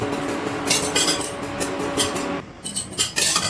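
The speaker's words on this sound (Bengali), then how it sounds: "একটু কড়াইয়ে নাড়াচাড়া করে নিচ্ছি।" Coriander, cumin and poppy seeds are stirred in a dry wok, with repeated metallic scrapes and clinks of a utensil against the pan over a light rustle, close, with a brief pause partway through.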